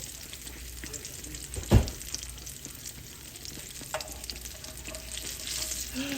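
Apple fritters frying in a pot of hot oil, with a steady low sizzle throughout and one brief, louder splash-like burst partway through.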